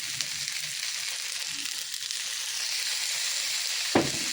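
Glass noodles stir-fried in a hot pan, a steady loud sizzle with faint stirring movement and one sharp clack near the end.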